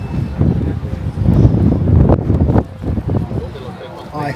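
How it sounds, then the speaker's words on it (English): Strong wind gusts across a Gran Canaria beach during a sandstorm, a loud, continuous roar buffeting the microphone, with wind noise rising and falling over the whole span. "it might be too windy"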